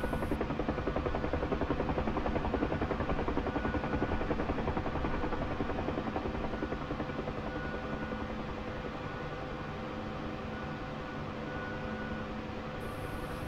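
A Bell UH-1 helicopter hovers in a flight simulator game with a continuous broadband rotor and turbine roar that stays steady and fairly loud throughout, with no voices.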